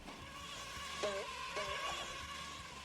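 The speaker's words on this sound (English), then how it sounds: "Also, I can hear the bees buzzing around" Bees in the video game SpongeBob Battle for Bikini Bottom, a faint steady insect buzz with a couple of short wavering swoops as they fly past, under background game music and no talk.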